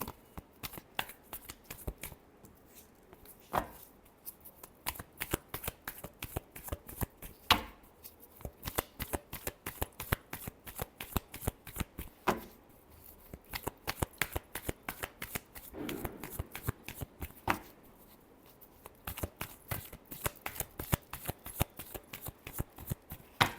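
Tarot cards are shuffled by hand up close in repeated crisp riffling bursts with short pauses between them, continuing for over twenty seconds without speech.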